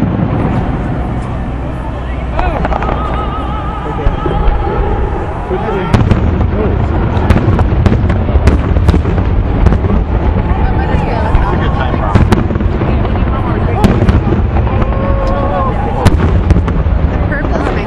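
Fourth of July fireworks over Seattle crackle and boom in a rapid, loud barrage of bursts and pops, with excited spectators talking and reacting throughout.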